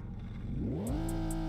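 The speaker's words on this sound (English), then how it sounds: "Gotta go with the Aston Martin Vantage V12. I mean, come on, this thing has a V12." Aston Martin Vantage V12 engine revs up sharply, its pitch climbing into a loud, smooth high-revving wail that holds steady, with a few faint clicks above.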